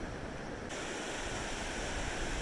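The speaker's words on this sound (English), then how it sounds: "The Nolichucky River." The Nolichucky River rushes with a dense, continuous roar of flowing water, close and steady, likely mixed with some wind noise and no voices.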